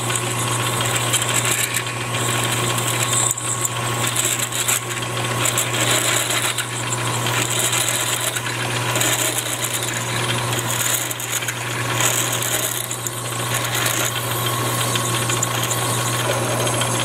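A steady mechanical whine and hum of a power drill boring through metal while making a tool post, clearing chips without binding, with a constant low drone and faint clinking.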